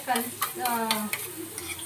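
Soaked mushroom kebab pieces sizzle in hot oil close up, with repeated stirring scrapes and clatter over the steady frying hiss.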